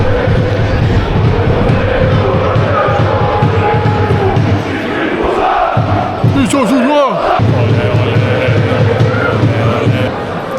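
Football fans chanting in a stadium, a dense roar of massed voices that continues steadily, with someone talking close by over the crowd.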